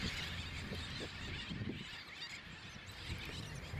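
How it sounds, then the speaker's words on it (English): A sooty tern breeding colony on an island, many birds calling at once in a dense, continuous chorus of overlapping cries, heard from a moderate distance with no talk. "Noisy as they are, I really loved seeing these sooty terns."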